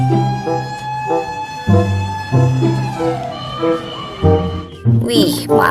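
A toy fire truck plays a warbling electronic siren that rises and falls in repeated cycles, loud and close, while a person talks over it.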